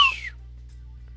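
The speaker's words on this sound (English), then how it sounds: "like just a loud whistle to get his attention" One loud, sharp whistle sweeps downward in pitch for a fraction of a second, then fades into near silence over a low background hum.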